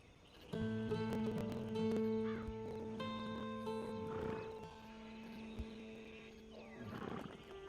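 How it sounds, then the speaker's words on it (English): A horse in Red Dead Redemption 2 lets out a long, loud whinny with a rough snort, followed by a second fainter neigh and scattered hoof clip-clops, close and clear without talk. "Been a while since you rode a horse."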